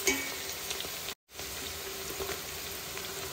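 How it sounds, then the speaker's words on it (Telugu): Onions and green chillies frying in a pan for chicken pulao, a steady close sizzle that cuts out for a moment and then carries on, with no talking. "అసలు కాంప్రమైజ్ అవ్వకుండా ఎర్రగా వేయించాలి. ఎందుకంటే మనం బ్రౌన్ ఆనియన్స్ వేస్తాం కదా"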